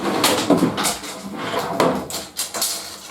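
Workshop drawer built for a work van fitout sliding shut, a few short wooden knocks and scrapes at close range, with faint voices in the background.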